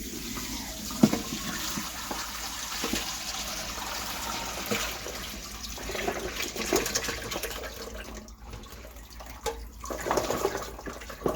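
Water runs and splashes steadily from a sink as freshly washed garlic is drained in a home kitchen, a continuous moderate flow with small clatters and a brief lull near the end.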